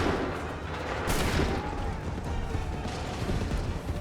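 A volley of muskets fired on command on an Assassin's Creed III battlefield, with a sharp burst near the one-second mark standing out above steady, dense battle noise and shouted orders.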